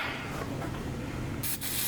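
A steady hiss of silicone grease spray runs throughout, coating a fuel injector O-ring on a BMW M57 diesel engine, with a brief, sharper burst of spraying near the end.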